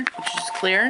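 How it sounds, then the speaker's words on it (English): A telephone sounds briefly at the end of a man's sentence while he talks about organizing travel documents. A short electronic ring tone rises clearly over his voice. "that's the phone."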